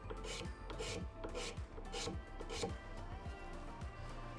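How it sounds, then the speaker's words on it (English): A sharp card scraper peels thin shavings from the end grain of wood for a watch display case, giving quick, evenly paced rasping strokes, close and steady, with no talk. "with the card scraper, again on end grain there, you can just peel it right off."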